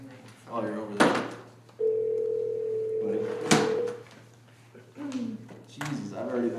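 A steady telephone dial tone on a conference call-in line holds for about two seconds between stretches of nearby talk, with a few sharp clicks like a handset being handled.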